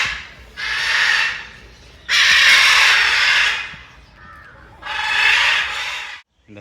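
Caged crows at Vandalur zoo in Chennai caw in three loud, harsh bursts, each lasting about a second or more, with short gaps between them and no one talking.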